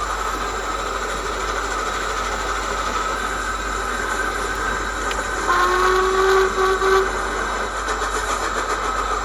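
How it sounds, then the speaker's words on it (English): Steady mechanical rumble of a Hornby Black 5 model steam locomotive with DCC sound running, a continuous chuffing wash synchronised with its motion, with a brief whistle-like tone partway through. "the chuff speed is synchronised with the motion"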